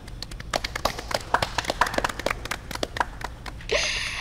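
Scattered applause from a small group, irregular claps close by, thinning out before a brief rustle at the end.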